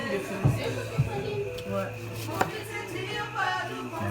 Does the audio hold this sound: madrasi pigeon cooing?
no